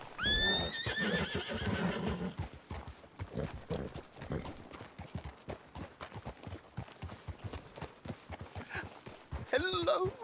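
A horse whinnies loudly in Red Dead Redemption 2 with hoof clops and game dialogue, then a second whinny close by near the end amid talk.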